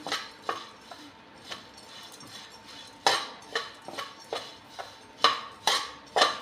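Dalia (cracked wheat) being stirred in a pan with a metal utensil, giving repeated scraping clinks and knocks at an irregular, unhurried rhythm, close and fairly clear, with no talking.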